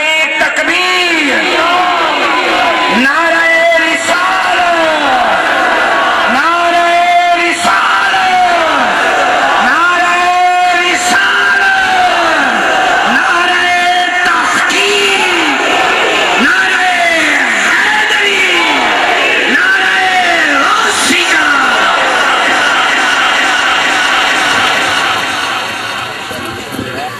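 A large crowd at a religious gathering at Astana Aliya Dhoda Sharif in Gujrat chants the Takbir slogan in welcome: loud, rhythmic group shouts repeating steadily over about half a minute, with a lone voice leading between responses.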